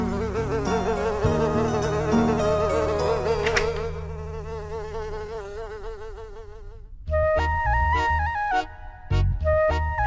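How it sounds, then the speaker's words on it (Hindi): A bee buzzing inside a room in a Hindi TV serial scene, a loud, wavering, close drone with background music that swells in later. "कमरे में मधुमक्खी घुस आई"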